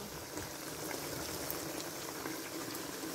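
Water bubbles and simmers off cooked chicken in a pot as it is dried down for a desi-style steam roast, a steady, close, dense boiling hiss with no talk.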